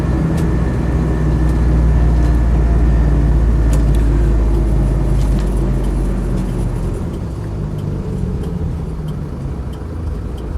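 A Land Rover 90 300Tdi soft top with an LT77 gearbox drives along, its diesel engine a steady low rumble heard from inside the cab that eases slightly toward the end.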